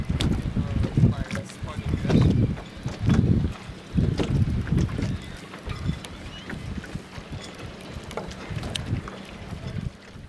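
A re-rigged dinghy proa out on a test sail, with gusting wind buffeting the microphone and water sloshing against the hull in uneven surges. Voices are faintly present under the noise.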